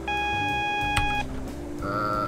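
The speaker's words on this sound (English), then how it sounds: "It's been so annoying that this warning just beeping all the time." Steady electronic warning tone sounding continuously for about a second inside the cab of a Class 90 locomotive in Train Simulator 2014, nearing King's Cross, with other cab and rail noise continuing after it stops.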